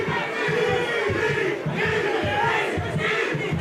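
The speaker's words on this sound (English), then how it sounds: "Crowd calling for the knees" Fight crowd at a K Series Warriors Cup kickboxing bout shouting and calling for knees, a loud, continuous roar of massed voices swelling in waves throughout.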